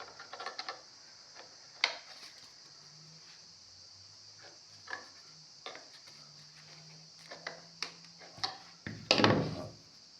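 Pliers tighten a water supply fitting on copper pipe, giving a scattered series of faint metallic clicks and scrapes with pauses between, ending in a louder burst of handling noise.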